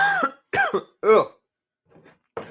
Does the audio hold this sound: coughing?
yes